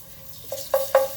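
Ginger and garlic hit hot oil for a stir-fried noodle dish, giving a short, close sizzle that builds in two quick bursts of crackling.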